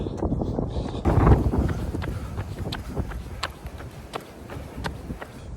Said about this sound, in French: c'est avec le vent en face là qui souffle de malade